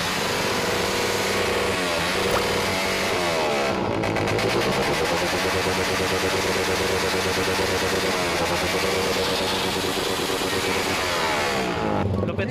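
A motorcycle with an aftermarket exhaust pipe revs loud and close, rising and falling continuously as its throttle is blipped repeatedly, with a deep rumble throughout.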